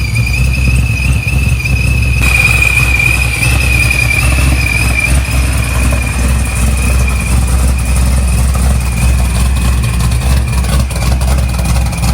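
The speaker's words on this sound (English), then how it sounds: "Just letting it idle for a little bit." ProCharged 441 LSX engine in a C6 Corvette Z06 idling steadily, a deep low rumble with a constant high-pitched supercharger whine on top, continuous and close, no talking.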